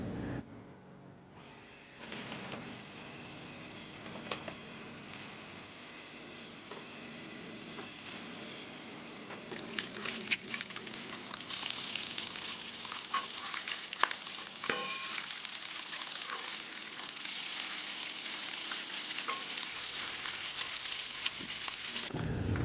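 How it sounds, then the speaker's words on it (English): Bacon frying until crispy on a flat top griddle, a continuous crackling sizzle with scattered pops that grows louder and busier partway through, with no talk. "We're going to start by cooking our bacon. We're going to get this nice and crispy the way I prefer it."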